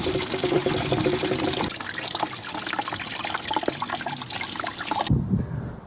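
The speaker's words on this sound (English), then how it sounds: "Okay, we've drained out all the coolant." Coolant drains out of the engine of a Rover 416GTI during a service, splashing and trickling steadily into a container close by. The gushing noise stops abruptly near the end.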